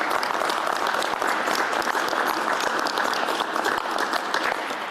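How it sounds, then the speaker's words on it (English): Audience applause at a mayoral event, dense steady clapping filling the room, loud and continuous throughout without pause. "Let's give Paul a round of applause, everyone."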